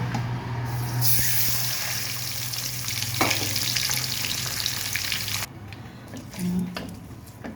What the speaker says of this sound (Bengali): দিয়ে ডিমগুলোকে ভাজবো